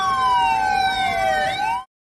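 A modern fire engine of the Surabaya city government in Indonesia sounds its siren, a loud rising and falling electronic wail with overlapping tones, which cuts off abruptly near the end.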